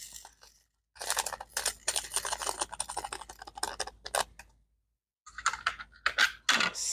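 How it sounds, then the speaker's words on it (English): Scissors snipping open a small plastic bag of diamond painting drills, close and quiet, with a run of crisp crinkly cuts and rustles, a pause, then more crackling plastic handling. "My scissors. Cut it open like this."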